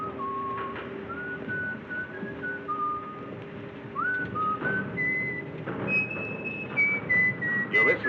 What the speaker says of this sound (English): You're whistling, sailor.